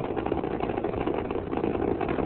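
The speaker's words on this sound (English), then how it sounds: "Discovery's engines now throttling down as the orbiter passes through the area of maximum dynamic pressure on the vehicle" Space Shuttle Discovery's main engines throttle down during the STS-51 launch, a continuous dense rumbling roar holding steady throughout with no voices.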